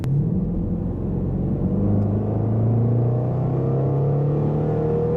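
A deep supercharged engine drone from a tuned Range Rover SVR rises slowly in pitch as it accelerates hard in manual mode past 4,500 rpm, heard steadily from inside the cabin with road rumble underneath.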